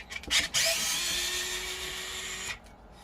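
An oscillating screwdriver takes out the motor screws of an electric unicycle, giving a few short buzzing starts followed by a steady whirring run of about two seconds that then stops, close to the mic with no talking.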